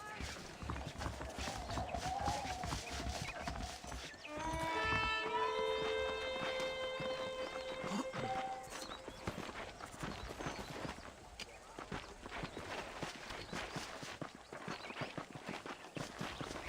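Steady clip-clop of horse hooves throughout in Red Dead Redemption, with a brief harmonic whinny-like tone and background music or effects layered over it.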